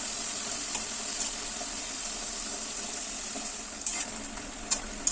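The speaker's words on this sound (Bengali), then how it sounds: "একে একে করে সমস্ত নিমকিগুলো আমি ভেজে নিলাম" Nimki dough pieces frying in oil over a low flame, a soft steady bubbling sizzle with a few sharp clinks near the end, no talking.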